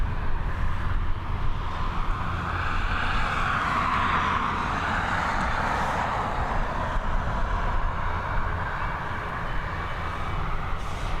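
A passenger jet climbs away from Dublin Airport bound for Palma, its engines giving a broad, sustained roar that swells and slowly fades as it heads off into the distance.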